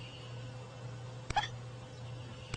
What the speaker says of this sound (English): The bat has the hiccups.